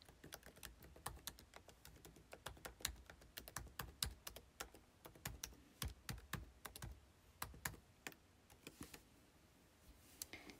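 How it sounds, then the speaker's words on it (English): Someone types a username and password on a computer keyboard, a steady run of close, crisp key clicks in uneven bursts with brief pauses between words. "we have to type in our password again and our username"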